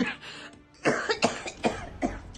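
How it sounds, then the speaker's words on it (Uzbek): A run of four or five harsh coughs in quick succession, close and fairly loud, from one person with brief pauses between. "Bo'ldi, yo'talmang."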